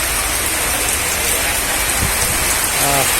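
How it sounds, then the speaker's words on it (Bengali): Steady rain pours down outdoors at a tree fair, a dense, even hiss of drops on surfaces that stays loud and unbroken throughout. "বৃষ্টির দৃশ্যই সুন্দর হইতেছে বৃষ্টি পড়ার শব্দ খুবই সুন্দর"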